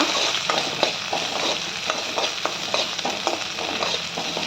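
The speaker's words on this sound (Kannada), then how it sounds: "ಹಸಿಮೆಣ್ಸಿನ್ಕಾಯಿ, ಅದನ್ನು ಹಾಕ್ತಾಯಿದ್ದೀನಿ. ಸ್ವಲ್ಪ ಇದು ಫ್ರೈ ಆಗಲಿ ಎಲ್ಲ." Green chillies sizzle in a pan for a village-style avarekalu gojju, a steady close frying hiss with light stirring clicks throughout, no voices.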